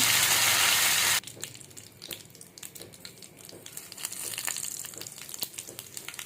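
Curry leaves and cumin seeds hit hot oil in a pan, a loud burst of sizzling at first that quickly settles into a steady, softer crackling fry with scattered pops.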